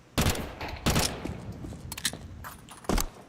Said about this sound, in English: It's a burst fire from Slacks